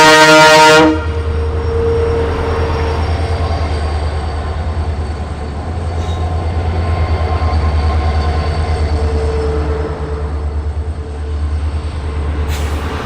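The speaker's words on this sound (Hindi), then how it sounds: "हमारी ट्रेन मोगा स्टेशन के प्लेटफॉर्म नंबर 1 पर आ चुकी है" Amritsar–Bikaner Superfast Express arriving at platform 1 of Moga station: a horn blast opens, then a loud steady rumble of carriages rolling in with faint squealing, and a second horn near the end.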